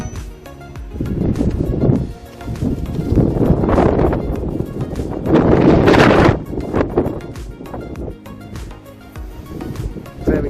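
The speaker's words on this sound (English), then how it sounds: "it's also incredibly windy, as I will now begin to show you." Strong gusty wind buffets the microphone outdoors on a mild winter day, surging in loud waves of broadband roar that rise and ease every few seconds with no speech.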